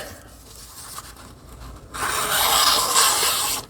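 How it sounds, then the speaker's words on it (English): A stropped knife blade being wiped down with a cloth, a quiet rubbing at first that turns into a louder, steady swishing wipe in the second half, close up with no talk. "let me wipe this blade down"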